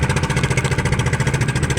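A faulty small boat engine runs at sea, a loud close rapid chugging with a steady pulsing rhythm and rough, uneven knocking.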